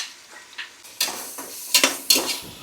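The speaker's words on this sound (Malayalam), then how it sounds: "ഈ അരിഞ്ഞ് വെച്ചിരിക്കുന്ന ചെറിയ സവാള അതൊന്ന് അങ്ങോട്ട് ഇട്ട് കൊടുക്കുക" Chopped small onions drop into hot oil for chicken madhooth and are stirred, giving irregular clinks and scrapes of utensil on pan over a faint sizzle, with louder bursts in the second half.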